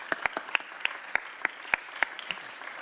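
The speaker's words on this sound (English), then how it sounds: "let's give her a round of applause" Scattered applause at a congressional hearing, a small audience clapping in sparse, distinct hand claps that sound close and crisp, irregular in rhythm over a few seconds.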